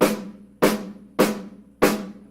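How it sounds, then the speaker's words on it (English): Four evenly spaced snare drum hits ring out close and loud, each from a stick bouncing off the drumhead with a sharp attack and a short rattling decay. "That way the stick will bounce off the head and you'll get a nice sound like this."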